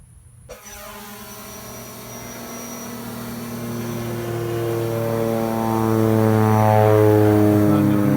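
A Holy Stone 700D drone flies close by with a steady multi-rotor whine and buzz, its tone slowly rising and growing louder over several seconds after an abrupt start, with no talking.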